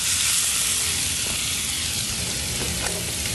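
Shrimp fry in a pan of bacon and shallot fat with a dense, bright sizzle and hiss, steady and close, with a few small clicks and no voices.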